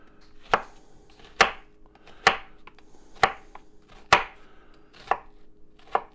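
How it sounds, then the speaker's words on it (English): An onion being sliced with a knife on a board for a Cajun salmon gumbo, with sharp, evenly spaced cutting thuds, about seven in a steady rhythm, close and clear with nothing else audible. "So make my slices like so"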